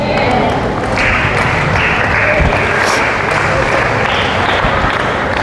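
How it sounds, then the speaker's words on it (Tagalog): Church congregation at a Sun Valley, Parañaque gathering claps loudly and steadily throughout, a dense continuous patter with a voice speaking over it. "Ganyan po yung palakpak kapag pananampalataya ang pinag-uusapan."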